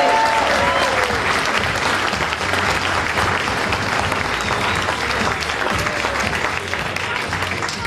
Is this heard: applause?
yes